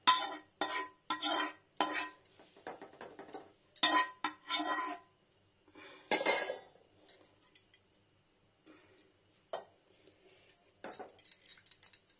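Cooked potato and pointed gourd curry is scraped from a pan into a serving dish, producing a string of sharp metal spoon clinks and scrapes. Quieter taps and clatters follow and thin out toward the end.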